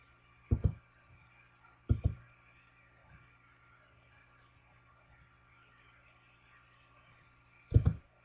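Three sets of sharp mouse clicks, double clicks among them, spaced several seconds apart and heard close up over a faint steady hum while drafting in CAD software.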